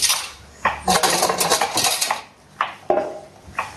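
A metal spoon stirring and scraping in a cooking pot, with sharp clinks of metal on metal in uneven bursts close by, some scraping runs continuous, followed by a few separate knocks against the pot's side.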